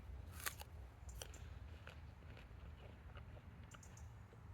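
A knife cuts into a dense late-season apple at a December tasting, giving a few crisp crunching clicks and cracks over a low steady background hum, close and fairly quiet.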